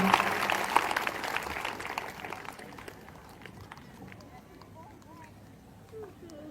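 A congregation at a morning prayer service bursts into clapping that stays dense for a couple of seconds and then fades into scattered claps, with voices murmuring throughout.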